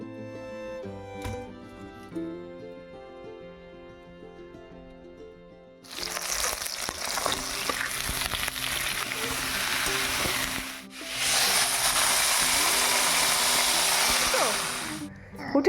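Loud hissing sizzle of food hitting hot oil in a pan in a home kitchen, starting abruptly after a quieter stretch of household sounds, pausing briefly, then continuing strongly until it cuts off near the end.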